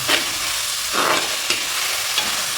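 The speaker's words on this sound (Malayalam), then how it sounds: "വഴന്ന് വരട്ടെ." Kerala-style chicken roast, with chicken coated in spice paste and onion, sautéing in a pan: a steady loud sizzle with a few scraping stirs and no talking.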